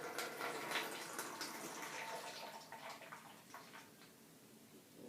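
Liquid pours steadily from a bottle into a container, a 20 volume (6%) hair developer going into an elephant toothpaste mix at home; a continuous close splashing trickle that fades slightly toward the end, with no talk.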